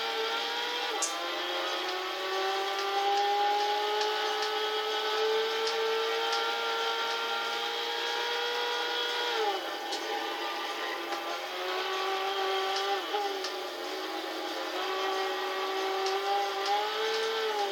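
Abarth Grande Punto engine in Gran Turismo 6, a steady loud drone of rising and falling harmonics with a gear-change dip near the middle, continuous throughout without talk.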